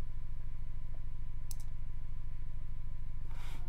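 A single sharp computer mouse click in astronomy image-processing software opening image statistics, heard once over a steady low electrical hum.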